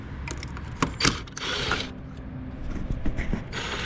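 A ratchet wrench works a ground bolt holding a plastic piece on a Toro Timecutter Z4200 zero-turn mower. Close, loud ratcheting clicks and metallic mechanism noise come in bursts with brief pauses.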